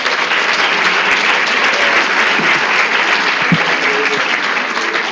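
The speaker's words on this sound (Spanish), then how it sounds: "muchas gracias por el caluroso aplauso" Warm, sustained applause from a lecture audience at the close of a law class on the Civil and Commercial Code, dense even clapping filling the whole stretch with almost no talk.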